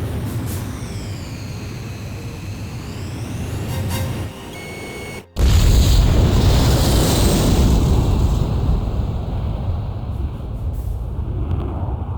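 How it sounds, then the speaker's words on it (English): A cruise missile strikes the mass driver in the Ace Combat 5 mission White Bird, a sudden loud blast after an abrupt cutoff, followed by a long roaring rumble that slowly fades, with earlier electronic tones. "Mass driver hit by cruise missile."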